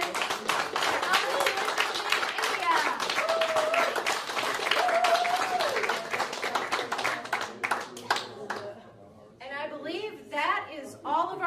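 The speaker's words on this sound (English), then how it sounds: "a big round of applause for our nonprofits" A conference audience claps in a long, dense round of applause for nonprofit teams at a kickoff event, steady and loud for about eight seconds before thinning into scattered claps as a voice speaks.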